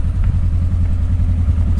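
A Polaris RZR UTV engine idles with a steady low rumble and slight rhythmic chug, close and constant throughout, no voices.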